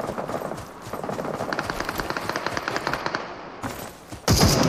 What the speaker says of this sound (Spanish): Ahora hay tiros arriba.